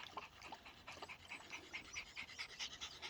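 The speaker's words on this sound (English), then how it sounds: "Kasper, your panting is really loud." A dog pants rapidly and rhythmically up close, quick breathy puffs repeating steadily with no other sounds around.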